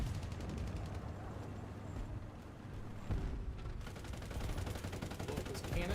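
Tank cannon fire and machine-gun chatter in the War Thunder tank game form a dense, constant battle din with a heavier blast partway through. Faint talk sits underneath.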